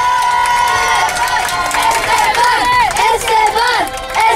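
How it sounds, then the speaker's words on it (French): A lively crowd at a youth football tournament in Munich cheers and shouts for a player, loud overlapping voices and whoops filling the whole stretch, with chanting-like rising calls toward the end. "un tonnerre d'applaudissements pour Garcia, Esteban"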